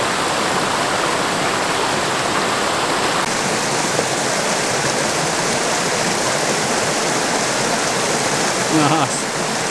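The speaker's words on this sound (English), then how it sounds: "we had finally made it to the main waterfall" A large waterfall in a Sunshine Coast rainforest roars as a loud, steady, dense rush of falling water that fills the whole scene without a break.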